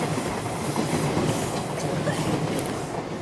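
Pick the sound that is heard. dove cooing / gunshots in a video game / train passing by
train passing by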